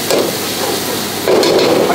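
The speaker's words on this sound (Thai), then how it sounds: "มันก็ผัดเลย" Food stir-fried in a wok in a Thai restaurant kitchen: steady close sizzling with scraping and clattering of the utensil against the pan, growing louder partway through.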